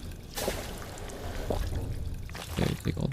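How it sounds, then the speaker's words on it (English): A short liquid pour and trickle as purified water is drunk to heal in Fallout 4, soft and close, with a couple of brief gulping bursts over quiet game ambience. "We'll just heal with some purified water."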